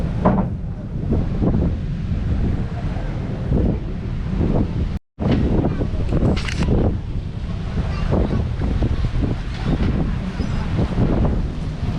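Strong wind buffets the microphone continuously on a sailing yacht in Fiji, a loud roaring rumble with a brief dropout midway.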